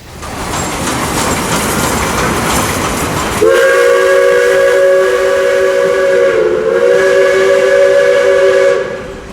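A steam train rumbles and hisses nearby at a Tasmanian transport museum, then a loud, sustained steam whistle blows for several seconds over the continuing chuff and noise.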